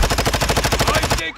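Rapid automatic gunfire in the video game Call of Duty DMZ rattles in a fast, even burst of loud close shots lasting over a second, then stops sharply.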